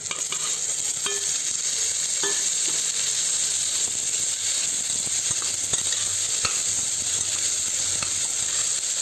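Tomatoes fry in a pan for chicken gravy, a steady close sizzle with scattered scrapes and clinks of stirring throughout.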